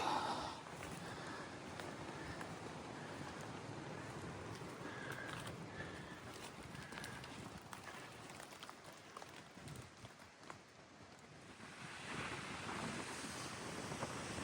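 Ocean surf washes steadily onto the shoreline at First Beach on Nootka Island's wild coast, a continuous close roar of breaking waves with wind buffeting the microphone and a swelling surge near the end.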